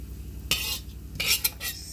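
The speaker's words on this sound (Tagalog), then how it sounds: "huwag mo lang titigilan ng paghalo para pantay ang pagka-ano niya" Peanuts stirred in a shallow layer of hot oil in a pan, roasting with chili and garlic: bursts of scraping and clinking from a utensil come in several short strokes, fairly close, with quiet gaps between.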